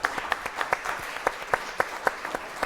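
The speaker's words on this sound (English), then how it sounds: "Please applaud." Sparse applause from a small group at an evening charity chef showdown event, individual claps spaced out and fairly quiet, fading irregularly.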